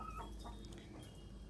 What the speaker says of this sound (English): New chicken